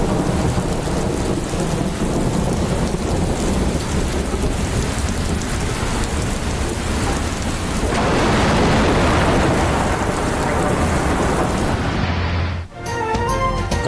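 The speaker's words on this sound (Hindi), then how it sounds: "कराची के मुख्तलिफ इलाकों में कहीं हल्की कहीं तेज़ बारिश का सिलसिला जारी।" Heavy rain pours steadily in Karachi with rolling thunder rumbling through it, loud and continuous, easing briefly near the end before a sharp thunderclap and renewed downpour.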